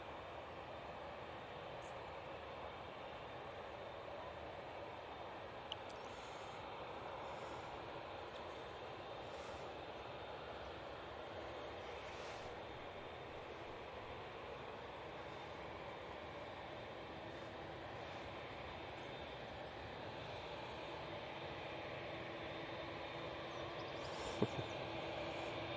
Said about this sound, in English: we've got Dash 8 coming out as well. Nice. That's the Lux Air, if you don't know. Should make a bit of a racket for you